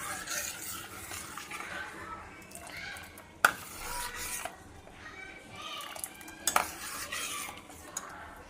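A spoon stirs a warm milk mixture for kesar badam firni in a metal pot, with soft scraping, a couple of sharp clinks against the rim and a faint sizzle, close and intermittent.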